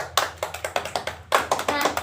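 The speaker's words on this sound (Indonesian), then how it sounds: "Mari kita beri aplaus kepada Andini." Classroom applause for a student after a correct answer, a burst of close hand claps in quick uneven rhythm, pausing briefly then resuming louder, with no talk over it.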